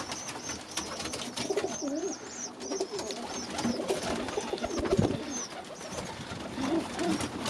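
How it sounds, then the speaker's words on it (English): Birmingham Roller pigeons coo steadily inside a loft, several birds layering soft, repeated throaty calls at moderate distance over a continuous low background murmur. "Just a quick look at all the birds."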